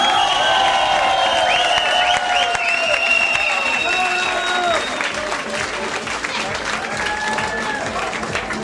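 An audience at a flair bartending competition in Plovdiv applauds a placing with steady, loud clapping from a crowd, while a host speaks over it through amplified sound.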